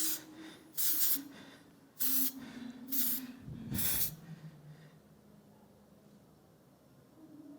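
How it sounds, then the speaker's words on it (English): Texture spray hisses onto styled hair in several short bursts, close and fairly loud, with quiet pauses between sprays. "A little texture spray in the hair."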